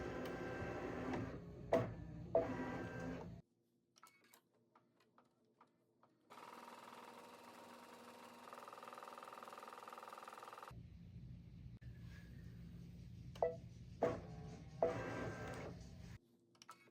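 A home embroidery machine stitches cup cozies in the hoop, giving rapid mechanical chattering in runs that stop and restart, with a steady motor hum between the stitching passes; close and fairly quiet, with no talking.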